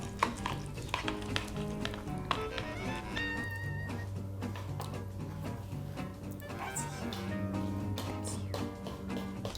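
Rice Krispies cereal sitting in milk, giving a close, busy crackling and snapping fizz, overlaid by clinks and background music-like tones.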